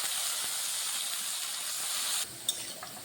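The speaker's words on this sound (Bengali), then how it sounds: "আলুটাও ভালোভাবে একটু লালচে করে ভেজে নিচ্ছি।" Salted potato pieces fry in hot oil with a steady, loud, close sizzle that drops off abruptly near the end, leaving a faint clink.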